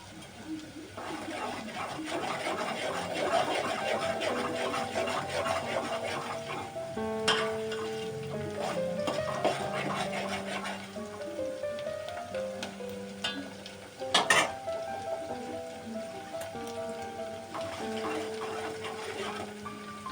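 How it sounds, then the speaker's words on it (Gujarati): Ginger garlic paste sizzles with browned onions in a pan for a fish curry, a steady frying hiss running throughout beneath sustained tonal background sounds, with a few louder clatters along the way. "તો સ્વાદ પ્રમાણે આદુ લસણનો પેસ્ટ નાખીશું આપણે।"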